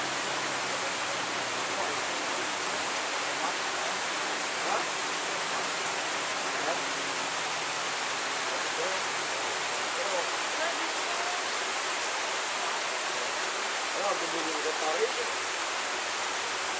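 Rain falling on a floor near a roadside hill climb, a steady broadband hiss that stays constant throughout, with faint voices beneath.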